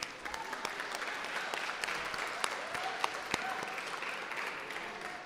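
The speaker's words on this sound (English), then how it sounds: "Seriously, one more round of applause." An arts awards audience gives another round of applause after a performance, a steady, fairly distant wash of many hands with a few sharper individual claps standing out across roughly five seconds.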